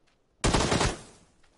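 A single burst of automatic gunfire in a shooting video game, loud and abrupt, lasting about half a second before trailing off into quiet.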